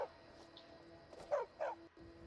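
A dog in Skyrim barks twice, short and sharp, close in the foreground, after a fainter yip at the start, over a quiet humming backdrop.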